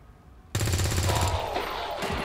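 Video game gunfire, a sudden loud burst of rapid automatic shots that erupts after a quiet moment and rattles on with a final crack near the end.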